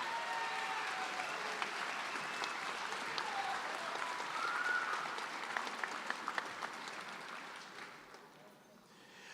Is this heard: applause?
yes